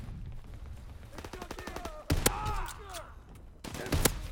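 Gunfire in the World War II shooter Call of Duty WW2, with two sharp bursts of shots amid quieter clicks and whooshing game effects, fairly faint overall.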